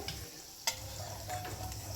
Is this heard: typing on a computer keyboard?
no